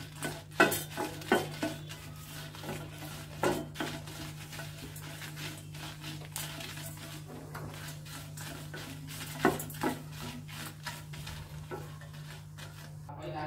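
Dry red chillies fry in a single drop of oil in a pan, giving a steady soft sizzle with frequent close spatula scrapes and clinks against the pan.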